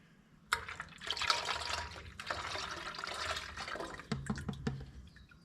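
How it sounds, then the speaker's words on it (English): A steady pour of linseed oil mixture splashing and trickling into a container, close by, with a few drips and small knocks near the end. "All right, and then we pour that in there."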